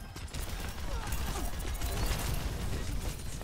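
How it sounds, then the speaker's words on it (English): Weapon reload in Overwatch 2, a busy run of mechanical clicks and ratcheting metal clacks over dense game noise, fairly loud and continuous throughout. "Reloading."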